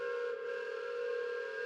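A loud, sustained train whistle in a detective video game, a steady tonal blast with strong harmonics held throughout, with no speech.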